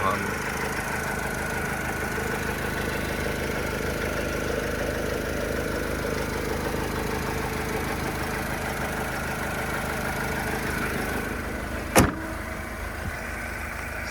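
A 2010 Renault Trafic passenger van with a 2.0 diesel engine (115 hp) idles in a steady, close, even drone, broken by a single sharp click near the end.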